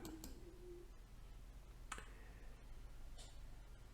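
A few sharp computer mouse clicks, spaced apart and fairly faint, over a low steady room hum.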